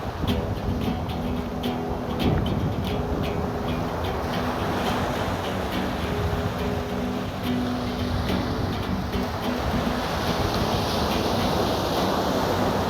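Wind rushes steadily past the microphone over the wash of small waves during a windsurfing session at sea, a constant, moderately loud roar with no voices.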